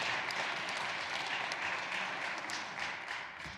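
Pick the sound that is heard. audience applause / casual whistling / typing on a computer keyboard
audience applause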